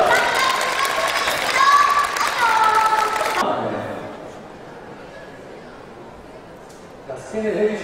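A crowd at a Gyeonggi Province Residents' Day celebration bursts into loud, dense applause for about three seconds, then it stops abruptly, leaving faint room noise and a little distant talk.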